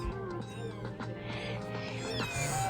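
Two cats in a pillow fort meow and whine repeatedly with rising, wavering cries, close and fairly loud over a constant low background hum.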